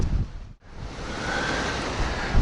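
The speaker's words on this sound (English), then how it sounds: "I think it said northeast winds. There's some rain coming in off the ocean." Northeast wind off the ocean along an RV site buffets the microphone in a steady roar, with a brief lull before the gusting rush and surf-like hiss build back, loud and close.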